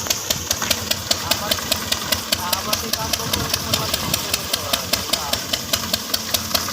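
A tractor engine runs steadily in a field during groundnut harvest work, giving a loud, even idling chug with regular knocking pulses throughout, close to the listener.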